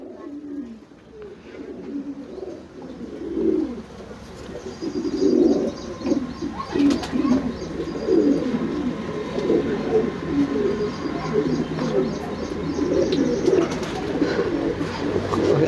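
Homing pigeon, a white flight female in a loft, cooing in repeated low throaty bursts among other pigeons, steady and moderately close.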